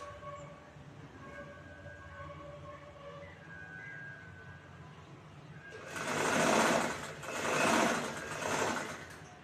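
Sewing machine stitching two layers of fabric along a blouse neckline a quarter inch from the edge, starting after a quieter stretch of low hum and then running in two or three loud close bursts.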